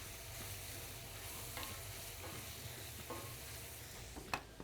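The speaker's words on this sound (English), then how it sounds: "Stir the bacon in between." Bacon stirred among oysters roasting over a smoky deer-camp fire: a quiet, steady sizzle under occasional soft scrapes and one sharp click near the end.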